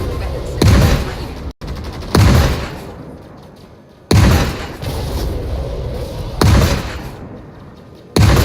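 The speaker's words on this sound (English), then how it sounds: "The amount of laser fire that's just going straight past your canopy." Repeated heavy bursts of laser fire in a Star Citizen space battle, flown in an Anvil Arrow fighter against a pirate swarm. Loud, booming volleys recur every couple of seconds, each fading into a rumbling tail.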